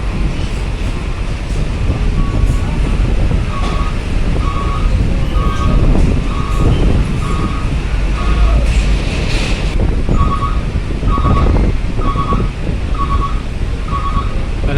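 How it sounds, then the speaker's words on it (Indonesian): Strong, gusty wind at Bakauheni harbour roars steadily across the microphone, with a train or vessel rumbling underneath and repeated beeping warning tones from around the middle onward. "Kencang sekali anginnya teman-teman."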